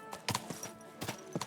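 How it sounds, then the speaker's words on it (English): Video game horse hooves clip-clop in short paired clusters of hollow knocks, two main bursts with lighter taps between, close and moderately loud, no talk. "So I do have a horse."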